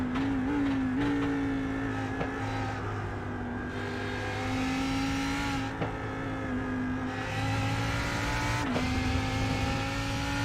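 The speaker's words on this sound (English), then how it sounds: "Let us go on board and listen to this engine." Steady onboard engine whine from a BMW GT race car at Spa-Francorchamps in iRacing, holding a high pitch with brief dips at gear shifts, loud and close with no talking.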